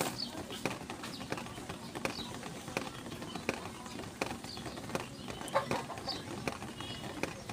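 Pigeons in a cage, with low cooing and soft rustling over a continuous background, broken by faint repeated taps and clicks from close by.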